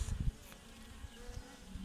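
Faint buzzing of honey bees with low rumbling thumps at the start, quiet and steady.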